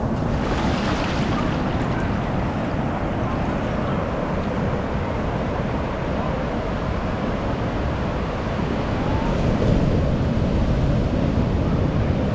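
Continuous roar of surf washing in on a beach at Santa Monica, broad and steady with wind rumbling across it, no voices.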